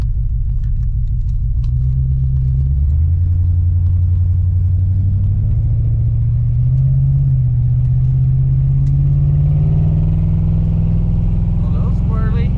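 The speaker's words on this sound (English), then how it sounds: "We're gonna take her down the street, give her some RPMs." Hot rod car engine revving loudly and close, a deep rumbling tone climbing in pitch as it accelerates down a street and holds high RPMs, with voices talking over it.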